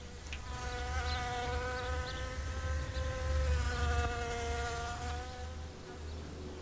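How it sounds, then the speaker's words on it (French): A founding queen wasp, fresh out of hibernation in early season, gives a steady close buzzing hum that holds for several seconds with a faint rise and fall in pitch. "Cette guêpe-là n'est pas ordinaire. C'est une femelle fondatrice, née l'été précédent."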